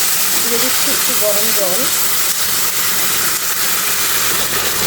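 Water poured onto spices frying in a pan sets off a loud, continuous steamy hiss and sizzle that runs throughout. A voice speaks briefly near the start over the sizzle.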